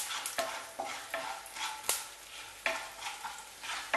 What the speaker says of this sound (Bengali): মুগ ডালটা কিছুক্ষণ নাড়িয়ে নেব।